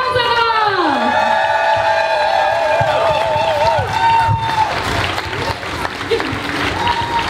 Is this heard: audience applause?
yes